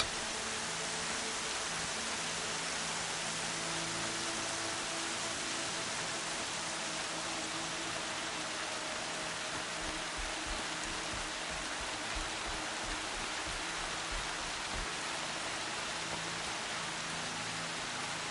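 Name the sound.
rain in the video game Horizon Zero Dawn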